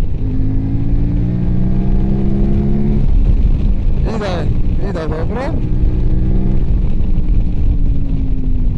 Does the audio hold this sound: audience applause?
no